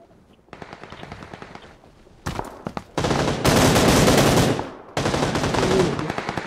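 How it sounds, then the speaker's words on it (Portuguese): Automatic gunfire from PUBG Lite: a faint rapid burst, then louder clusters of shots and a long, dense, sustained volley, ending with another loud rattling burst, all close and with no talk. "Dei um tiro no cara, mano"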